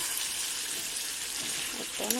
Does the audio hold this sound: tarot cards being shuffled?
no